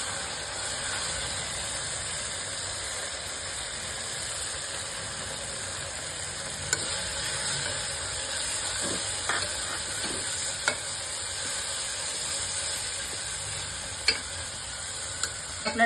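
Tomatoes sautéing in a pan for vegetable khichdi give off a continuous, moderately quiet sizzle, with a few sharp spoon-against-pan clinks near the end and no talking.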